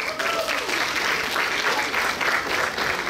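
Applause from an outdoor crowd at a yacht club sailing regatta greeting a young band, steady clapping with some voices mixed in.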